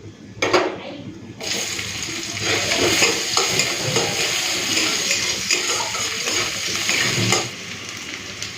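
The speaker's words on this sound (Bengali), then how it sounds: "পেঁয়াজ কুচি আর রসুন কুচিটা দিয়ে দেবো" Chopped onion and garlic hit hot oil with whole cumin and dried chilli, bursting into a loud, steady close-up sizzle that continues for several seconds after an initial clatter.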